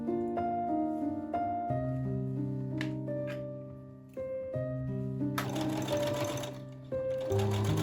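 Sewing machine stitching boning onto horsehair braid for a couture petticoat, its motor running in loud bursts with a whirring tone, stopping and restarting several times close up.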